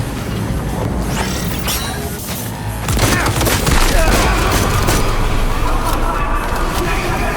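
Gunfire in Cyberpunk 2077, a dense burst of rapid shots and booming impacts that grows louder midway and continues steadily over a noisy game background.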